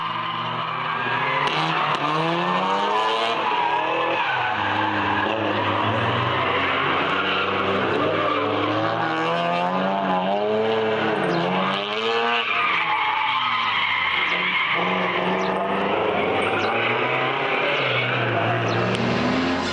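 Drift cars slide through a fast corner at a drifting event, their tyres screeching and squealing without a break over loud, revving engines, a dense roar that rises and falls as the cars swing past.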